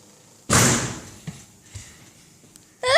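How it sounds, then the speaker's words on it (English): Household doors being shut indoors: one loud thudding slam followed by a few softer knocks and bumps, with a sharp vocal squeak at the very end. "let's close the doors"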